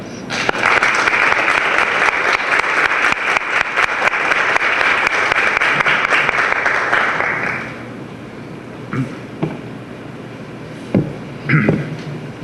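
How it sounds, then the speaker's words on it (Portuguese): A large audience at an evening philosophy lecture on Thomas Aquinas applauds steadily to welcome Father McDowell, a dense sustained ovation that fades out near the end, leaving a few scattered claps and quiet room noise. "eu queria que todos vocês me ajudassem a receber o Padre McDowell com uma salva de palmas"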